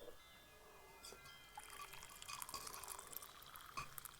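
Water is poured and dribbled into a moss mixture, giving soft close trickling with scattered drips and light glassy clinks, quiet and intimate in tone.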